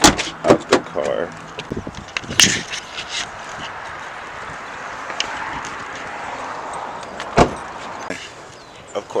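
Several sharp thumps and clicks of a car door being opened and shut while a bag is taken out of the car, with brief rustles between them and talk early on.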